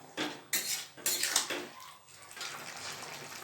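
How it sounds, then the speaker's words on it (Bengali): A spoon scrapes and clinks against a pan while spice paste is stirred into pumpkin greens, several sharp metallic strokes followed by softer wet rustling, no talking. "এবারে আমি এর মধ্যে দিয়ে দেবো পেস্ট করে রাখা মশলাটা, দিয়ে একটু নাড়াচাড়া করে দিই"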